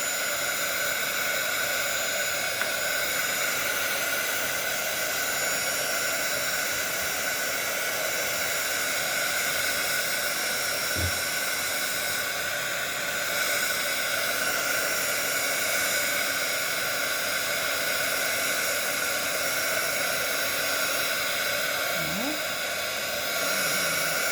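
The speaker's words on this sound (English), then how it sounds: "I like to just bring in my heat tool, all right, and start drying this" A heat tool blows steadily over wet watercolor paint, a continuous loud airy whoosh with even hiss that runs unbroken throughout, with no talking.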